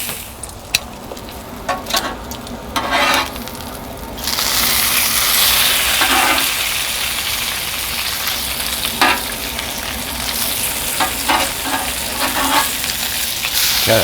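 Bacon fries in a pan over a gas flame, a loud, steady sizzling hiss that swells after a few seconds, with occasional scrapes and clicks of utensils.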